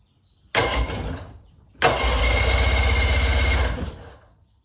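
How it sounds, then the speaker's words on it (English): The starter on the engine of a 1969 Glasspar Tacoma 14 boat cranks in two bursts, a short one and then a longer steady churning whir lasting about two seconds, loud and close, with no voices. "let's turn the key and see if the starter cranks over"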